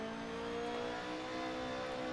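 A race car engine revs hard in the sim racing game Assetto Corsa on the Nürburgring, a steady, sustained buzzing drone, fairly faint and alone with no voices.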